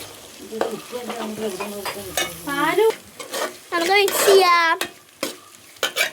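Chopped tomatoes stirred and frying in a pan for Kerala egg thoran, with scraping strokes over a soft sizzle and a voice vocalizing in the middle.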